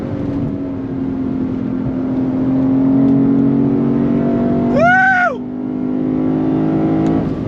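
A Lexus IS 500 F Special Edition sedan engine revs hard and climbs in pitch, a sharp throttle blip rising and falling midway through a steady, loud drone.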